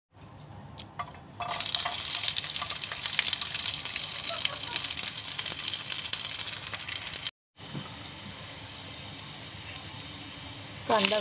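Onion, garlic, ginger and dry coconut slices roast in oil in a wok, starting with a few clinks and then a loud, steady sizzle that stops briefly and resumes, heard close up.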